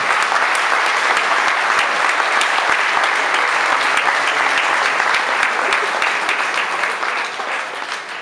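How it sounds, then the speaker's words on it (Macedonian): A hall full of people applauding journalists at a formal ceremonial session, with dense sustained clapping that stays loud throughout and eases slightly near the end. "ве молам еден аплауз за сите новинари кои се присутни"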